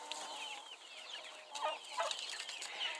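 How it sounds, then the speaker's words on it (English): Roosters cluck and murmur nearby against a steady outdoor hum, with a few sharper clucks standing out toward the end. "The roosters we have right there"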